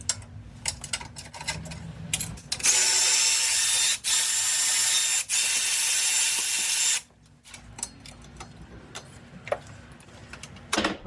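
Ratchet work on bolts at a Subaru power steering pump brings a loud continuous mechanical whir for about four seconds, broken by two brief gaps, with softer clicks and clanks before and after, no talk.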